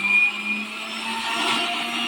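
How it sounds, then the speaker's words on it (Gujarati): A kitchen mixer grinder coarsely grinding ingredients for a Kathiawadi dish, a steady whirring motor drone with a gritty, rattling churn, loud and continuous for about two seconds with no talk. "હવે આપણે મિક્સરમાં પીસી લઈશું"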